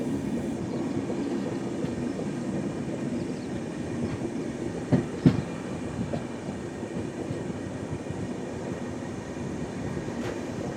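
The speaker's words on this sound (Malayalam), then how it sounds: "ഈ അമൃത് ഭാരത് അലിപ്പൂർ ദ്വാർ പൻവേൽ അമൃത് ഭാരതാണിത്." The Amrit Bharat Express, Alipurduar to Panvel, rolls past on an electrified line. A steady rumble of wheels with rhythmic clacking runs throughout, broken midway by a couple of sharp metallic bangs.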